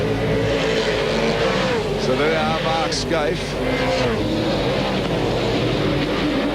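Onboard roar of an Australian V8 Supercar touring car at the 2001 Australian Grand Prix support race, a loud continuous engine drone with shifting pitch throughout, under a commentator's talk.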